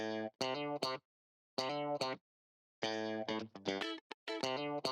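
A bright, heavily processed electric guitar riff sample in F from an Afrobeat kit in FL Studio plays in choppy phrases with short gaps between them, loud and close.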